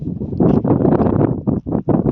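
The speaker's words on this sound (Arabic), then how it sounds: "الهوا فوق شديد جدا يا جماعة على التبة العالية دي." Strong wind buffets the microphone on a high hill, loud gusty low roaring bursts that swell and drop out in short gaps, with no voices.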